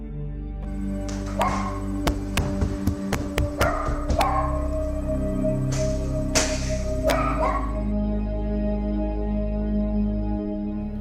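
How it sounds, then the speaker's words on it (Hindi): A dog barks loudly and repeatedly in short bursts, close by, over a steady low background hum. "वो जो कुत्ता है वो बहुत ज्यादा जोर जोर से भौंकने लगता है।"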